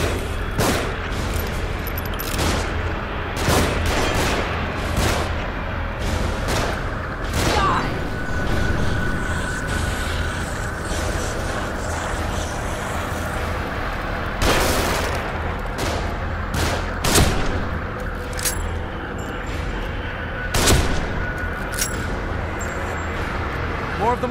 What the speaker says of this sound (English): Shooting from above.